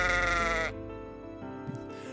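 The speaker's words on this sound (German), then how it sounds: "Beim Abstieg wurde ich dazu von einer Gruppe Schafe begleitet" Sheep bleating on a Lofoten mountainside, a loud close bleat for under a second, then quieter overlapping bleats from the group carrying on behind.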